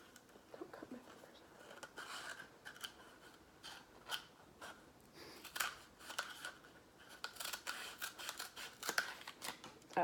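Scissors cut through paper in a quiet room, giving a series of faint, crisp snips and crunches in irregular bursts, with occasional soft sounds of handling.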